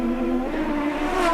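Race cars sweep through a fast turn-7 chicane at a street circuit, a loud, close engine note with a clear rising pitch that then fades as the car passes.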